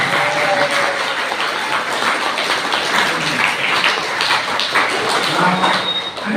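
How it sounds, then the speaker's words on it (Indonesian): Applause from a school audience at an anti-drug, smoking and gambling awareness event at SMK Yadika, a dense, steady patter of many hands clapping throughout, fairly loud and close. "berikan kasih aplaus untuk Yadika"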